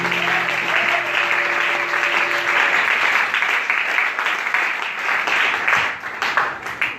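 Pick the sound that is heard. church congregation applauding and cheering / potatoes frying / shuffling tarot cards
church congregation applauding and cheering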